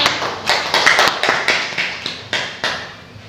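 Applause in a classroom, a rapid series of sharp, loud hand claps from a few people, close and uneven, with no talking.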